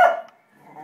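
A single sharp dog bark up close, trailing into a quieter, muffled whine.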